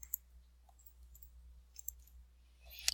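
Faint, sparse key clicks of a keyboard's print screen key sound close in a quiet room, ending in a brief rattling burst.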